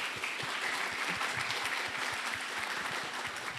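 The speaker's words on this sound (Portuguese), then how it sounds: "Aplauso." Audience at a literary festival talk applauds steadily, a dense, even patter of many hands clapping at moderate distance, alone and fairly quiet throughout.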